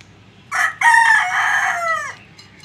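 A rooster crows loudly and close by beside a quail cage, a long drawn-out call with a short clucking burst just before it, and no talking.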